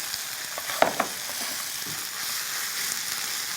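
Webfoot octopus stir-fried with green garlic in hot oil, a steady close sizzle and crackle filling the pan, with a couple of sharp clinks and stirring scrapes near the start and no talking.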